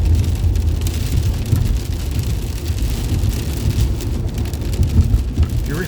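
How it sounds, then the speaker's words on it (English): Heavy rain pours down steadily and loudly during a road ride on routes 76 and 422, a dense wash of close drumming with a low rumble underneath and no talk. "The rain is getting heavier."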